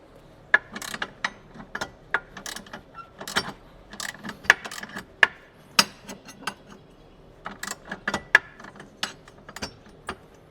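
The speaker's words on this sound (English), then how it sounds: "you get maybe 1/8 of a turn each ratchet" A hand ratchet works a 13 mm bolt on the IBR actuator of a 2021 Sea-Doo GTI 170 SE, giving rapid, irregular bursts of sharp close clicks with short pauses between strokes.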